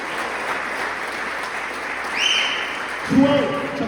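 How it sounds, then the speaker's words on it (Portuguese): A church congregation at a worship service applauds, a steady wash of clapping throughout with brief higher voice-like sounds rising over it, fairly close and continuous. "Vamos aplaudir, querido."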